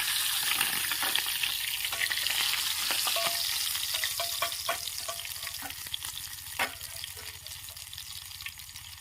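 Fish frying in oil in a pan at a rainy solo campsite, a steady close hiss of sizzling with occasional stirring scrapes and clinks, no voices.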